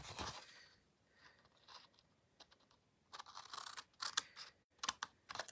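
Scissors snip through card along score lines in short, sharp crisp cuts, irregular clusters of close snaps separated by brief pauses, quiet overall with no talking.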